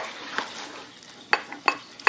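A spoon stirs coconut milk into a banana filling for Vietnamese bánh tét, giving a few soft scraping strokes and then sharper clinks against the bowl toward the end, close and fairly quiet.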